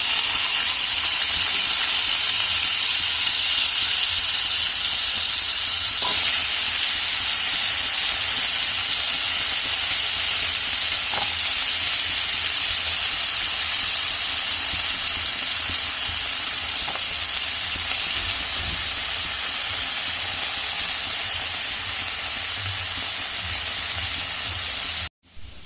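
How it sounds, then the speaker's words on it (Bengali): Potatoes fry in hot oil with a loud, close, continuous hissing sizzle that holds steady for about twenty-five seconds. No one speaks. "এবার আমি এই তেলে আলুগুলো ভেজে নেব"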